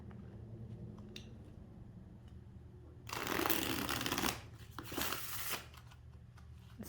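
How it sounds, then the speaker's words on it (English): A deck of tarot cards being shuffled in a loud riffling burst lasting about a second, followed by softer card taps and slides, close by. "shuffling this pack"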